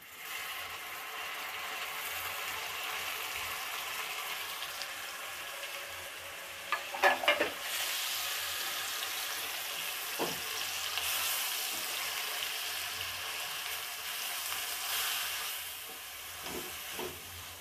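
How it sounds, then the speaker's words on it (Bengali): Mutton with onion, ginger, garlic and mustard pastes fries in a pan with a steady soft sizzle, broken by a few scraping clinks of a stirring spoon, moderately quiet and without speech. "ভালোভাবে কষিয়ে নিব।"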